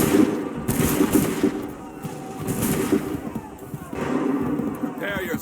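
Musket volleys crack out in Assassin's Creed III, several broad bursts of massed gunfire spaced a second or two apart, mixed with shouted orders and battle noise.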